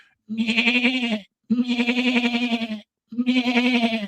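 A man imitates a sheep with three drawn-out, wavering bleats, each about a second long and separated by short pauses, loud and close.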